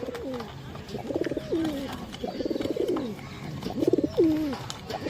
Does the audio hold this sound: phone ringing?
no